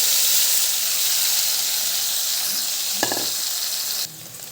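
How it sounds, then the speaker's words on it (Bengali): Paneer browns in hot oil in a kadai, a dense continuous sizzle heard close, with a single light tap near the end before the hiss drops to a quieter level. "আগে পনিরটা ভেজে নিবে লাল লাল করে"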